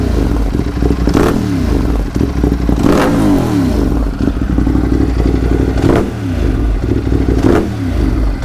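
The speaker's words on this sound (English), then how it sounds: "give you guys a few revs as it's just sitting here so you can hopefully feel how thunderous this is" A parked Ducati motorcycle sits idling and revs repeatedly to about 4,000 RPM, with loud, thunderous bursts rising and falling over a rough, clattering idle, close up and without talking.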